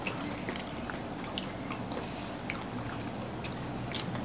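Close, wet chewing and soft crunching of Thai santol fruit salad (yam krathon), with steady bites over a few seconds and no talking.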